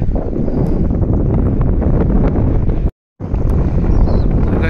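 Strong coastal wind at Hervey Bay, Australia, roars and buffets the microphone continuously, with a brief sudden dropout near the end before the gusting resumes.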